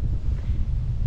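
Strong wind gusting across a hilltop viewpoint with a large landmark sign above Pattaya, buffeting the microphone as a loud, continuous low rumble with no voices.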